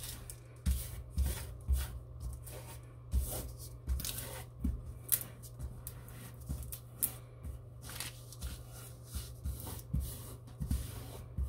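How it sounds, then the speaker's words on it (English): Air bubbles pop and crackle beneath homemade bare metal foil pressed over a sticky base, a steady run of small, close, irregular snaps and rustles with no talking. "You hear the air bubbles popping and cracking in there."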